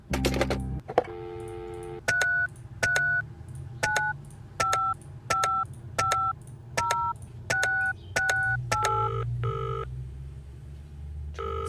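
A telephone dialing a call in a video game: a rapid sequence of about a dozen evenly spaced dual-tone keypad beeps, clear and close, after a brief click at the start.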